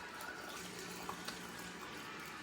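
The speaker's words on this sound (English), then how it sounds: "I am going to now add" Warm water poured into a bowl of island bread dough, a steady close splashing trickle running throughout with no talking.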